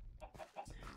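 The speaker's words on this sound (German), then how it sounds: "Hühnerstall und die Hühner freuen sich." Chickens in a coop in the Minecraft video game give a few soft, short clucks, quiet and close with no other sounds.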